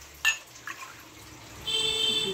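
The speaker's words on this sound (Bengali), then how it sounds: "এবার আমি এখানে 6 কাপ জল দেবো।" Water poured from a cup into a pot of rice, a couple of brief splashes followed by a steadier trickling pour, close and fairly soft.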